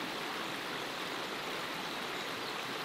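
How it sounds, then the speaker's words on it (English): A small stream fed by a lake at a farm, flowing on toward the River Tee, gives off a steady, soft rushing hiss, faint and unbroken, with no voices. "The stream is sourced from a small lake at the Bowden farm, which eventually discharges into the River Tee."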